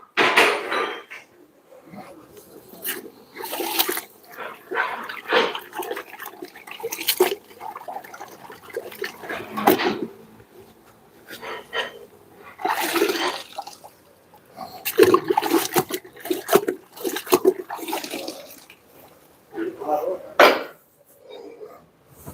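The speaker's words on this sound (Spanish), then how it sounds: "Ahora vamos a enfriarlo con agua." Water splashes and gushes in bursts over a hot engine mount bushing on a Ford Cargo 1721 truck being pressed in a hydraulic press, with irregular sloshing and dripping sounds and quiet gaps between.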